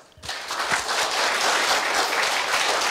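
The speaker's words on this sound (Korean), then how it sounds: "한 박수 한번 큰 박수 부탁드리겠습니다" Audience applause breaks out after a short quiet start at a Korea University staff retirement ceremony, a dense, steady wash of many hands clapping that holds loud and even for the rest of the stretch.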